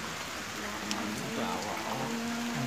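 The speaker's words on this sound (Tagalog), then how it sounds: "Ulan is rain." Rain at a viewing deck in Claveria, Misamis Oriental, making a soft steady hiss, while a low voice murmurs faintly underneath.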